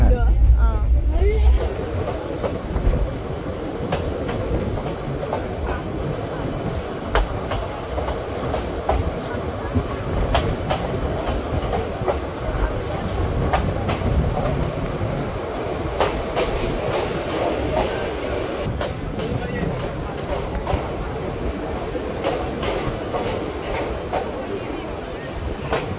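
Kaviguru Express train travelling from Naihati toward Bolpur, a steady loud rumble with rhythmic clickety-clack of wheels on rail joints throughout, with people talking faintly inside the carriage.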